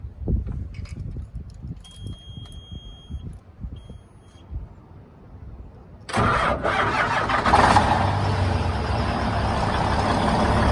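A Kenworth T800 log truck's diesel engine is started after some low rumbling and clicks. It catches abruptly and settles into a loud, steady, close idle.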